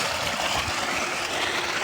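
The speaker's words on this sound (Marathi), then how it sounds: "ही मोटर आहे इथून पाणी येतं" A farm water pump motor running beside an irrigation outlet, a steady low mechanical drone with a broad hissing rush layered on top, constant and fairly close for the whole short stretch.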